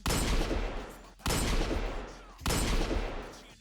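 A custom-built Last Word weapon in Destiny 2, its magazine made from a cylinder, firing: three long, loud, noisy blasts with short breaks between them, each cut off sharply.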